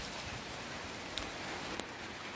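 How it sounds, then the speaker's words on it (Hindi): Steady rain falls outdoors, a faint continuous hiss with a couple of soft isolated drips standing out. "यहाँ पे बहुत दिनों बाद बारिश दे रहे हैं"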